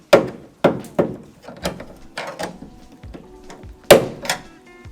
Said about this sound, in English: So again, this is on a popper. We should be able to get our trim tool down through the top.